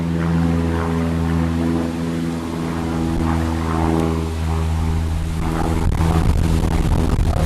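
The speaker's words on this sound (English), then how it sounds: "Aeroplane." A propeller aircraft drones overhead with a steady low engine hum, loud and continuous throughout.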